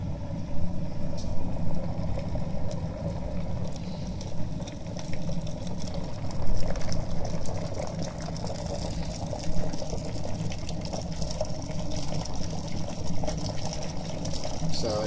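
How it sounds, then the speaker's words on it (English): Water boiling at a steady rolling bubble, a dense continuous churning hiss and gurgle heard close and fairly loud for the whole stretch, with no voices over it. "Water is boiling."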